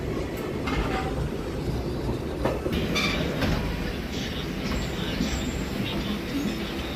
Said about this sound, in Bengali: ট্রেন প্রবেশ করছে শান্তিরবাজার রেল স্টেশনে